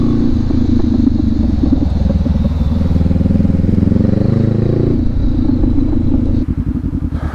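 A 2019 Honda CB500X motorcycle rides through Portland, Oregon, its engine droning steadily and loud up close, with the note shifting at about five seconds and a rougher pulsing idle near the end.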